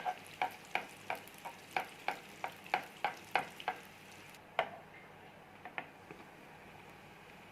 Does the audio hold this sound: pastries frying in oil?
yes